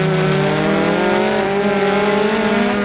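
A Peugeot 205 T16 rally car engine in the video game Dirt Rally 2.0 holds a loud, steady high-revving drone, its pitch climbing slowly as the car pulls along a straight, with no speech over it.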